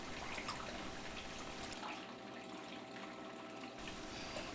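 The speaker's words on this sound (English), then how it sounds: "The flow rate was adjusted so that the outer edge of the water was 1 inch below the top of the blue bowl" Water running steadily through a blue bowl gold concentrator, a soft continuous trickling and splashing flow that stays even throughout, fairly quiet and with no voices.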